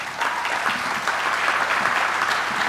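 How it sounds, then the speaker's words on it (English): An audience at a county economic development event claps steadily for a commissioner, a loud, even wash of applause throughout. "Ladies and gentlemen, your applause, please, for Commissioner Robin Fisher."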